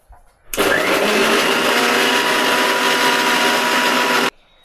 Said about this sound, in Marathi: आता हे आपण मिक्सरला लावून घेऊया आणि मिक्सरला जरा जास्त वेळ फेटून घ्यायचंय.